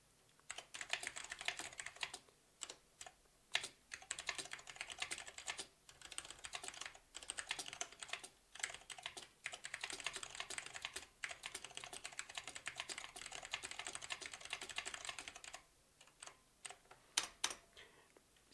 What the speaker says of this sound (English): We can type some text.